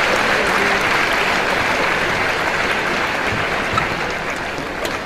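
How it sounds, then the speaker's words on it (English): Spectators at a badminton match clap and cheer in a sustained, loud wash of applause filling the arena, tapering slightly toward the end. "Oh, big round of applause."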